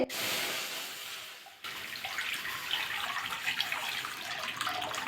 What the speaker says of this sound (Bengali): আবার গ্যাসে কড়াটা বসিয়ে দিয়েছি জল দিয়ে দেবো কড়াতে